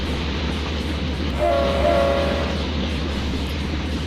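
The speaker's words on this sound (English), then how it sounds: "one single engine pulling quite a train" A steady low rumble of a single locomotive engine hauling a long train in a train simulator game, continuous and droning, with a faint horn-like tone rising briefly in the middle.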